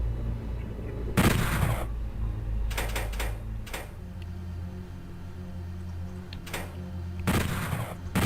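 Bursts of gunfire from the shooter Doom 64 come in several loud clusters of rapid shots, separated by quieter stretches of game background hum.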